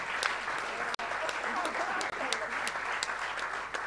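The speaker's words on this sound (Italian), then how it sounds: "Fatemi magari fare un applauso tutti assieme" An audience at a public event gives a sustained round of applause, dense clapping from many hands heard from a distance, with scattered sharper claps standing out.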